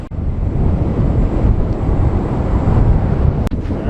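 Strong wind buffets the microphone while riding a Ninebot One E+ electric unicycle, a loud continuous low roar with one brief click near the end and no talk.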